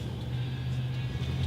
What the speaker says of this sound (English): W4, which is similar to an Isuzu cab-over style truck.